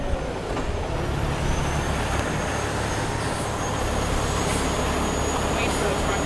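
A truck passes on a Cleveland street, a broad, steady rumble of engine and road noise, fairly loud and sustained, with speech likely present underneath.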